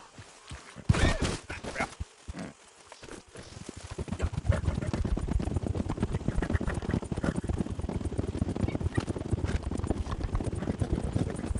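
Horse hooves clip-clop in Red Dead Redemption 2, a few scattered steps at first, then a fast, steady galloping rhythm that grows louder and carries on close by to the end.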